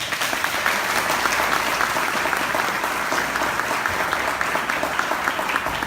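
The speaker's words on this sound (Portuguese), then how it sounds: "Salve de palmas." A church congregation applauds steadily, a dense, continuous wash of many hands clapping together at close range, sustained evenly without pause and with no voices above it.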